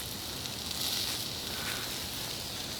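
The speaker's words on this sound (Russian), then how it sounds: "Сейчас пока мяско жарится" Meat frying over an open campfire in a forest gives a steady, soft sizzling hiss that stays even and fairly quiet throughout.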